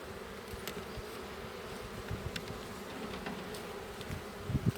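Honey bees from a newly installed package buzz as a low, steady drone during a hive inspection, with brief closer passes flicking past now and then. The sound stays faint throughout.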